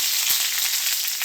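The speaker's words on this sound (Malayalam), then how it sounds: "കടുക് പൊട്ടിക്കഴിഞ്ഞാൽ കറിവേപ്പില," Curry leaves and mustard seeds sizzle in hot oil while tempering a Kerala kalan curry, a loud steady hiss with a few soft pops throughout.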